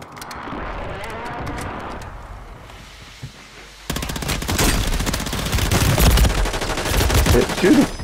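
Video game gunfire in Call of Duty, played as a quads match: a quieter stretch of scattered shots gives way to loud, dense automatic fire and explosive bursts that continue without pause.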